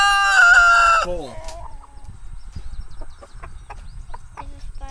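Chickens in a backyard coop on a rainy day crow and then cluck nearby, with short bursts of clucking and faint rustling following a loud opening crow; no voices are heard.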